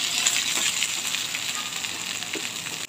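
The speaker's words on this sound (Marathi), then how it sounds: "आता आपण कांदे टाकून घेऊया। लसूण पण टाकून घेऊ, आलं ते छान प्रकारे आपण भाजून घेऊया।" Chopped onions, garlic and ginger frying in hot oil for palak paneer give a loud, continuous close sizzle that fades slightly, with a few soft stirring touches and no voices.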